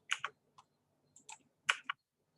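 Keys are tapped on a computer keyboard in short irregular bursts, crisp close clicks separated by brief pauses, with no talking.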